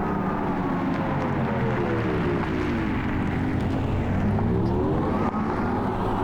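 An Audi electric car heard from outside, its synthetic exterior sound a loud, continuous hum with smoothly rising and falling tones, close by and with no talking.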